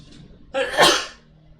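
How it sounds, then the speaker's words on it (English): A single close, loud sneeze: a short breathy intake followed by a sharp explosive burst, then quiet. "I might sneeze."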